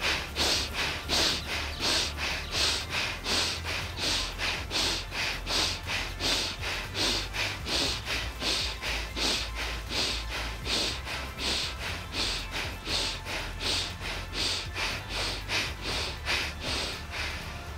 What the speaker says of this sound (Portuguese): Inspira e expira vigorosamente pelas narinas.